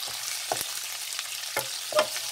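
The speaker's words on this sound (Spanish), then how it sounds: "vamos a revolver todo" Vienna sausages frying Korean style in a pan, a steady sizzle with a few scraping strokes of stirring at irregular intervals, close and alone with no voices.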